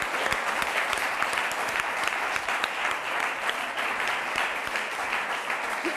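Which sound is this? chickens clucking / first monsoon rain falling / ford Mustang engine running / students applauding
students applauding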